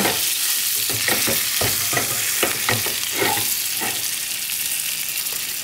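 Food sizzling and frying in a pan on a stove that has just been turned off at an ice fishing camp, a steady close hiss broken by scattered stirring clicks and pops.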